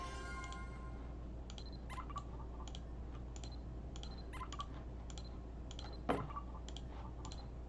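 Keys on a new, fancy computer keyboard click faintly in an irregular run of light taps over a low steady hum, with one slightly sharper knock near the end.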